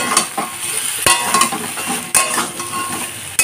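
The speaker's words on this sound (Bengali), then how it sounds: "এখন ভালো করে কষিয়ে নেব।" Fish heads are stirred in a pan with salt, sugar, turmeric, chilli powder and cumin powder over a low flame. A steady sizzle runs throughout, broken by a few sharp utensil scrapes and knocks against the pan.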